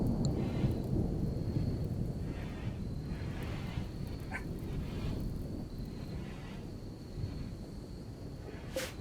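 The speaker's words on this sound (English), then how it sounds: "I love the sound of thunder." Low, sustained rumble of thunder in a RimWorld storm, rolling steadily and loudly throughout, with faint higher ticks over it and no talking.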